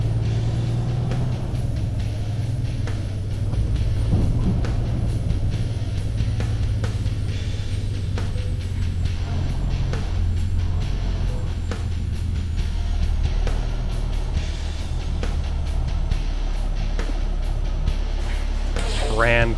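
A truck engine idles in American Truck Simulator, a steady low rumble running throughout with faint clicks and a rising tone at the very end, while a person talks over it.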